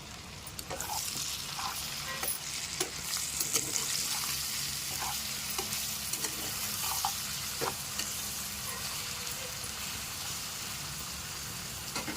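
Tomatoes with salt frying in a pan for a mutton roast curry, producing a continuous close hiss of sizzling with scattered scraping stir strokes and light spatter pops.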